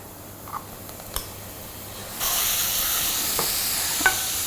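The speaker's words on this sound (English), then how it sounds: "At this point I am going to add the seasoned meat in" Seasoned beef drops into a pan of frying ginger and garlic, and the quiet hiss jumps into a loud, steady sizzle, with a few clinks of a utensil before and after.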